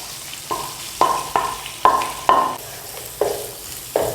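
Cumin seeds and mashed potatoes fry in a pan as a low sizzle under a series of loud, evenly spaced scraping and stirring strokes, about eight in all; nobody speaks.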